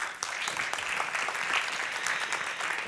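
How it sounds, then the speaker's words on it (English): Audience applause at a Sweden-India Tech Community panel event, a steady wash of many hands clapping that holds evenly throughout without voices on top. "Applause."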